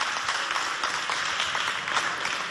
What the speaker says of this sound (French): Applaudissez pour les deux équipes